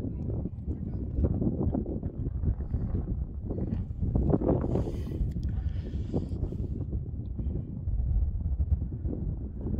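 Wind gusts and buffets steadily across an open desert viewpoint at Balanced Rock in Arches National Park, Utah, a continuous rumbling roar that swells and eases, close on the microphone.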